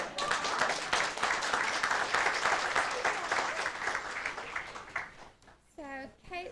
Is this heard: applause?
yes